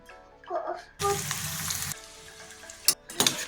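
Bitter gourd pieces drop into hot oil in a pan and burst into a loud sizzle that then settles, followed by sharp clinks of the spoon near the end; a faint sound comes before the pieces go in.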